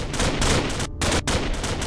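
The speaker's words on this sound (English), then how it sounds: "there's shots being fired everywhere!" Dense, sustained volleys of gunfire in a Minecraft zombie apocalypse battle, steady and loud with two brief gaps, no talk over it.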